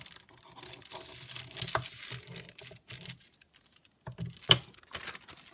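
A glassine bag is trimmed, with dry paper crinkling and rustling in irregular bursts close by, a sharp crisp snip near the end, and quiet gaps between.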